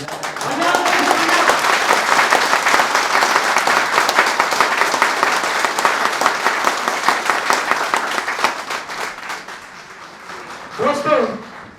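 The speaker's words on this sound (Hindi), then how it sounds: "या तो तालियां बजाओ तो ढंग से बजाओ, वरना मत बजाओ।" A large audience applauds loudly and continuously, the clapping fading toward the end before a voice speaks briefly.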